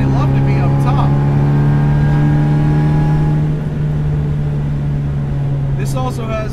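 The supercharged 1.8 engine of a 1967 MGB GT with an aftermarket exhaust holds a steady high-revving drone with strong harmonic tones, loud and close, easing slightly toward the end.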